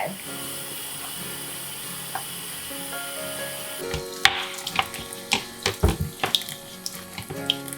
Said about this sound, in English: I just put some Dawn on my rag, and then I just start washing it like so.